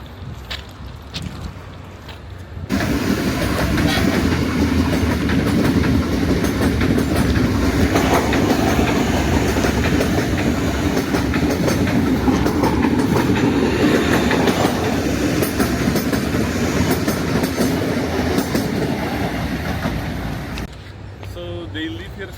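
A train rolls past on a railway running through a Jakarta slum. It is loud, close and steady for most of the clip, with rumbling and clattering wheels, and quieter surroundings before and after it.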